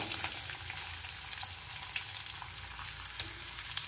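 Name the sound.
food deep frying in oil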